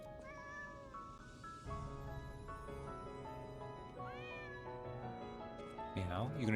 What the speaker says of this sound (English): So instead of walking away and ignoring you, it just meows at you.